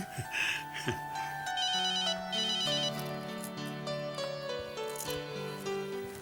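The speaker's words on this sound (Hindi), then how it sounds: "चैतन्य का फोन होगा बेटा" A mobile phone rings with a melodic electronic ringtone that repeats its tune loud and close throughout, alone with no talking.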